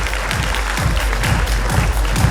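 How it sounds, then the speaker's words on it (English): Audience applause at a grand finale event, steady crowd clapping with a low, regularly pulsing thump running underneath. "Can you hear a big round of applause for"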